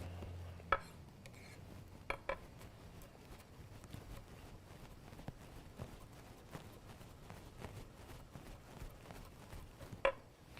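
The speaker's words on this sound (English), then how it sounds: "So we're just going to slice this garlic down, chop that up." A knife slices and chops garlic on a board in a home kitchen, giving scattered sharp taps with a few louder knocks. The taps are faint and irregular over low background noise.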